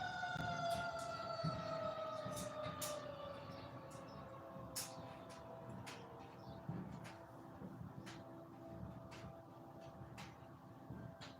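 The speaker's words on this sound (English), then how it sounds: "But see how the sirens are going off?" Sirens wailing outside: long, slowly falling tones, distant and faint, under steady low background noise, with a few clicks and ticks nearby.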